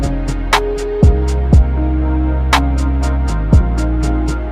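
An R&B beat plays from FL Studio, with deep sustained bass, pitched synth layers and periodic punchy kick and snare hits, loud and full with no voices.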